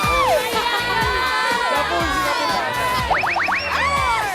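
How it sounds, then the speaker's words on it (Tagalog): Children playing outdoors in the rain at a barangay gathering, shouting and squealing over a lively crowd, with rising whoops and a quick run of excited high cries near the end. "Mga bata, naglaro sa ulan."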